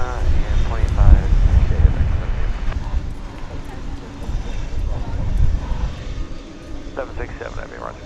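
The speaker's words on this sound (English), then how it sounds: "FedEx MD-11 going to Indianapolis" A FedEx MD-11 cargo jet at DFW Airport at night gives a steady, loud, broad engine roar mixed with wind buffeting, while radio voices talk over it throughout.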